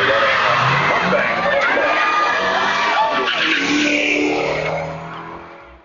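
A modified electric Datsun race car drag-races a Mustang on a track, with loud tire squeal and engine roar sustained throughout before fading near the end.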